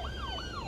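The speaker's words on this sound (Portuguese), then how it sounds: "Ó, chegou a ambulância também" An ambulance siren from Cities: Skylines 2 at a traffic accident scene wails in two quick rising-and-falling sweeps, fairly close and clear over faint traffic hum.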